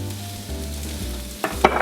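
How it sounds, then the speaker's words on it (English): Carrot, celery and onion mirepoix with chopped red and green peppers and green onions sautéing in a pan for a hot bolognese rigatoni, a low steady sizzle with a couple of sharp crackling bursts as the vegetables hit the heat. "Saute that in there like that."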